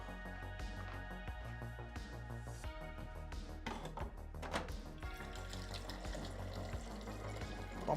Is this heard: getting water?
yes